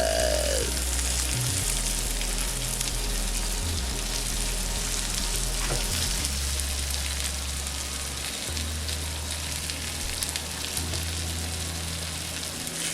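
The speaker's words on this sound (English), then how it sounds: "I'm dumping in all of my onions and all of my garlic into the potatoes." Onions and garlic hit a hot pan of potatoes and sizzle loudly and steadily, a dense crackling hiss that holds without break, with low thumps of the pan underneath.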